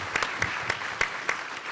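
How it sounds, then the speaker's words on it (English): A few scattered, faint claps from a small symposium audience thanking two organizers, sparse and spaced out over a low room hum. "If you guys can give them a round of applause for setting this up tonight."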